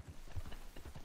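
Horse hooves clip-clopping in the video game Red Dead Online, a quick run of faint, rhythmic hoofbeats.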